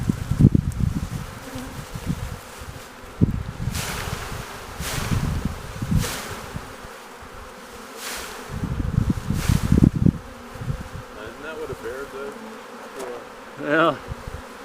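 A honey bee swarm buzzes outdoors in Red Bluff, California, during a swarm capture, a close, continuous insect drone with rustling and bumping of bee-laden stalks and wind gusts, loud bursts rising and fading throughout.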